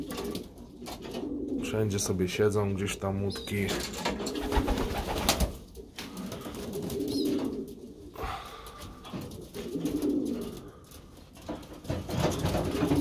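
Pigeons coo softly in a newly built pigeon loft crowded with young birds, their low rolling calls recurring beneath someone speaking Polish.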